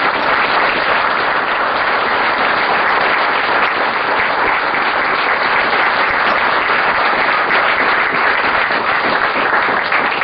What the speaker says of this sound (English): I will request one more round of huge applause for him.